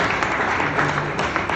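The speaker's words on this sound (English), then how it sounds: "Let's give him a big applause." Audience applause for a speaker at a talk, a steady dense patter of clapping throughout, moderately loud and close, with no speech over it.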